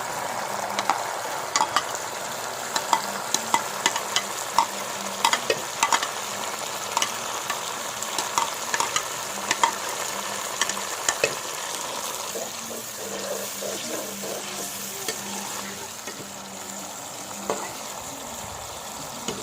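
Ginger-garlic paste and tomato-chili paste hit browned onions frying in a pot for deghi chicken, giving a steady close sizzle with scattered crackles and stirring clatter throughout.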